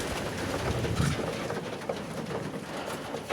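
Pigeons coo softly in a loft during an evening feeding in ten-below frost. Low, murmuring calls drift close and continuous over a dense, rustling background, with no voices heard.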